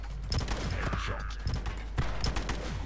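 Rapid gunfire bursts in the shooting game The Club, in a prison cells level, with repeated sharp shots and mechanical clacks in a steady rhythm, moderately loud over a low rumble.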